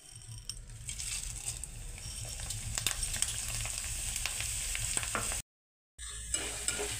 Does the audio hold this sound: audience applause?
no